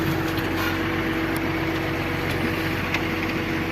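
A tractor engine's steady low drone runs throughout while ploughing, even and constant, with no talking.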